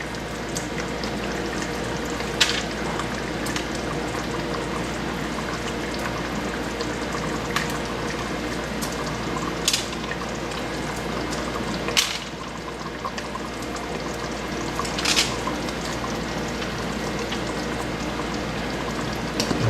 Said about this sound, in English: our Vindaloo is at a simmer here, and what we're going to do is we're going to add the meat